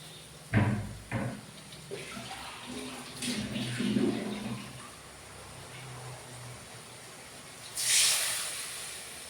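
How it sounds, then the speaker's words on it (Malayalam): A mixer grinder jar being washed in a kitchen: a few soft knocks and thuds come first, then quiet handling, and near the end a short rush of running water. The whole scene is faint. "മിക്സിയുടെ ജാറൊക്കെ ഒന്ന് കഴുകി വെച്ച്"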